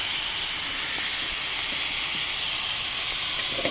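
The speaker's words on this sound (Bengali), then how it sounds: "আমি সামান্য একটু জল দিয়ে দিচ্ছি" Water poured into a hot pan of boiled vegetables, potatoes among them, gives off a loud, continuous steamy hiss that holds steady throughout.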